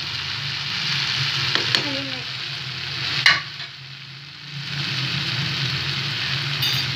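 Tomatoes sizzle steadily in a hot pan as they are roasted over raised heat, a dense close frying hiss with a few brief clinks from stirring partway through.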